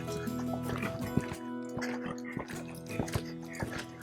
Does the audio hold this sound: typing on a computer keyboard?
no